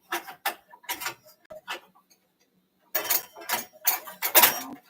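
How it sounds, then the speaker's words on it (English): A spoon clinks and scrapes in a bowl as date sugar is stirred into chocolate mint bundt cake batter, giving two bursts of quick clattering strokes separated by a short pause, close and fairly loud, with no talking. "Add our date sugar to it. Stir that in."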